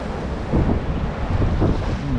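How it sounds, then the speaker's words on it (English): Wind on a Florida Gulf beach, a loud, constant roar of gusts buffeting the microphone with low rumbling surges, and no speech. "You can see the wind's picked up."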